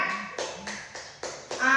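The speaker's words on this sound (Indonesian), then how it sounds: "Tepuk tangan." A classroom group claps in short, evenly spaced bursts, about six sharp claps in quick rhythm, with a voice speaking near the end.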